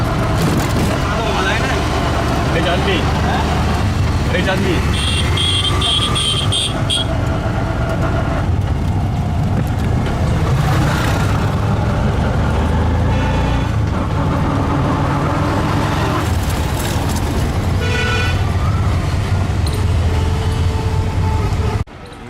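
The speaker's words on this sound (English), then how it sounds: "Riding on a tuk-tuk." A tuk-tuk ride through busy street traffic in India: a steady, loud engine drone and road rumble, with horns honking now and then and voices talking beneath the noise.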